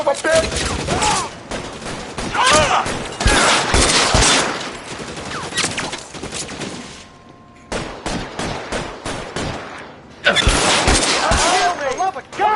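Rapid bursts of gunfire from the video game L.A. Noire, loud and dense volleys with brief pauses between them, sounding like machine-gun fusillades up close.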